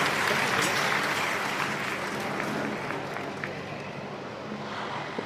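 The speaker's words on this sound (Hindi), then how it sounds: "वंदना सिद्धार्थ जी के लिए जोरदार तालियां" A crowd applauds steadily throughout as a woman is presented with a memento at an honoring ceremony, dense, even clapping from many hands filling the room.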